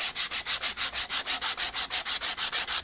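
80 grit abrasive sanding rust buildup off an MCI bus Bendix brake chamber: a brisk, even back-and-forth scratching with about seven strokes per second, close and alone.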